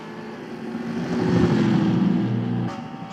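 A race car engine from NASCAR Racing 2003 roars down the back straightaway, a sustained loud droning buzz that swells and holds steady before easing slightly, with no voices over it.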